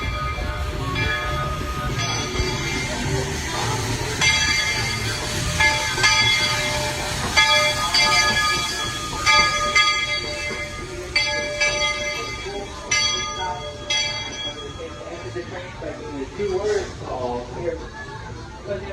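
A Walt Disney World Railroad train rumbles and clanks into Fantasyland Station while a bell rings repeatedly overhead, with a voice announcing over the steady rolling noise.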